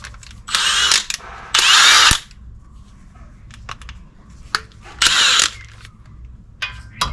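A ratchet spins out the brake caliper mount bolts on a 2018 Nissan Frontier pickup, heard as loud rapid clicking bursts with quiet gaps and small tool clinks between them.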